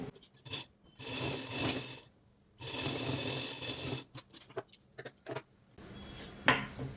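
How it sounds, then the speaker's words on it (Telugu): A sewing machine stitches blouse lining in several short bursts of rapid mechanical whirring, separated by pauses filled with fabric handling and small clicks, close and fairly quiet. "ఈ విధంగా పైన స్టిచ్ వేయండి"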